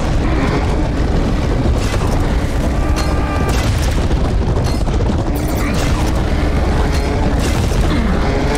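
Dense, continuous booming fills the scene as bodies burst in Serious Sam 4, a loud, chaotic wall of overlapping explosions and impacts with no pause.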